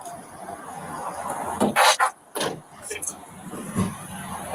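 A car's power windows whir shut during a roadside police stop, with short motor bursts and a few thumps over steady background noise and nearby voices.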